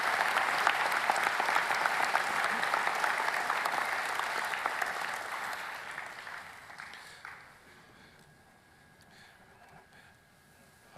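A large audience at a university architecture and design commencement ceremony applauds the department heads and faculty, a dense, loud ovation that holds for several seconds and then fades to scattered claps.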